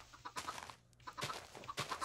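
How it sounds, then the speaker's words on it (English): Chickens cluck in a Minecraft-style video game, several quick bursts of clucking in a short run, with no talk over them. "So much chicken noise."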